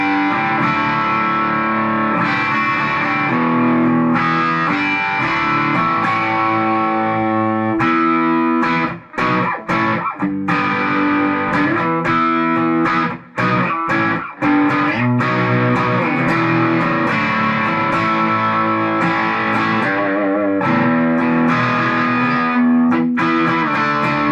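Electric guitar played through a Boss Katana Artist MkII head on its crunch channel with gain around 11 o'clock, loud and sustained chords with rhythmic strummed bursts and brief pauses, no talking.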